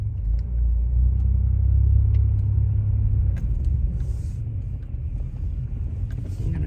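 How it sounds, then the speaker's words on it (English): A stopped semi-truck's engine rumbles in a low, steady drone heard from inside a vehicle on the road, close and loud, easing slightly after a few seconds. "A big semi-truck just stopped in the middle of the road."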